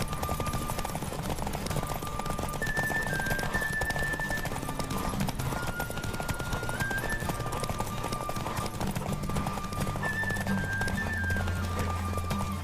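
Steady clip-clop of hooves at a fast pace from a galloping horse in the video game The Witcher 3, with game music tones and a low rumble underneath, continuous throughout.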